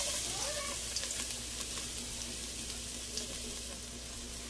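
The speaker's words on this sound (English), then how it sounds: "So I added some oil into the pot and we're gonna start off with the garlic and onions" Garlic and onions frying in oil in a pot for arroz con gandules, a soft, even sizzle heard at low volume with occasional faint stirring ticks and a low steady hum beneath.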